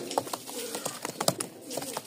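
Giribaz pigeons at a sale coo softly and repeatedly in a short, close burst of overlapping, throaty murmurs.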